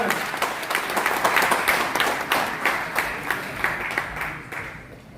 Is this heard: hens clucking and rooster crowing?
no